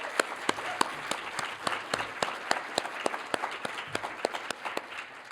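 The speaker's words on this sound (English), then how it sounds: "Let's give them a round of applause." Audience applause fills a hall at an undergraduate research showcase of lightning talks, a steady wash of many hands clapping with sharp individual claps standing out, moderately loud and continuous with no talk over it.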